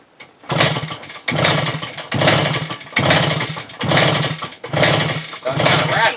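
A rebuilt 1974 Suzuki TC 125 motorcycle engine sounds off in six loud, rattly bursts of roughly a second each, separated by short gaps, close by and indoors.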